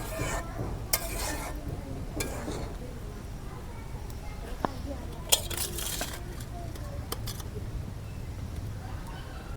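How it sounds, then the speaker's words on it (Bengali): Large pomfret pieces go into a frying spice paste and are stirred, bringing soft sizzling, scraping and occasional clinks of a utensil against the pan, with light background voices. "এখন মশলা মাছ দিয়ে দেবো"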